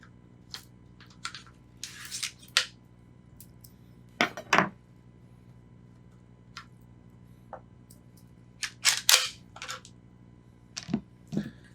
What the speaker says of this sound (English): let's just pull out the operating mechanism